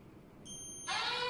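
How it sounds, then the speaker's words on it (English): An electronic alarm on a water tank level sensor, triggered by an ultrasonic distance sensor, sounds a steady high-pitched tone that suddenly jumps to a louder, harsher buzzing, faint and alone. "If it's below 20 cm high, the sensor will trigger and the alarm will be on."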